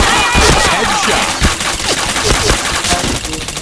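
Rapid bursts of gunfire in a shooter video game, loud and dense with overlapping shots and impacts throughout.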